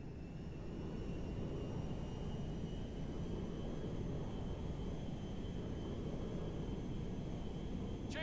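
A jet airliner in the video game GTA V comes in to land at McKenzie Field, its engines giving a steady, loud, unbroken roar with no speech over it.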